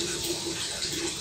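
Water from a small spring flows in a steady, continuous babble and trickle, close and fairly loud, with no voices over it.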